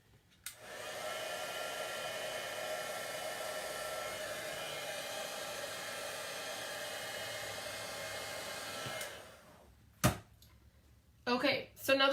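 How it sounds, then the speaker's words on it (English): A handheld heat tool blows steadily for about eight seconds, drying Early Espresso stamped ink on a handmade card, then cuts off, followed by a few brief rustling bumps. "I'm going to take my heat tool and I'm going to dry the Early Espresso"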